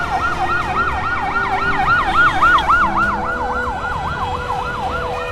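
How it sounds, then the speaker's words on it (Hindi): Ambulance sirens wail through the streets of Beirut, a loud, continuous rising-and-falling electronic siren with overlapping tones and a faint background traffic rumble. "लेबनान की राजधानी बेरूत की सड़कों पर बस एम्बुलेंस दौड़ती हुई दिखाई दे रही थी"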